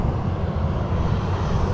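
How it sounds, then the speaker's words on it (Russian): A Singapore Airlines jet taking off near Mai Khao beach in Thailand, a loud, continuous low engine roar that stays steady and heavy throughout, close by. "Сейчас будем наблюдать взлет сингапурских авиалиний."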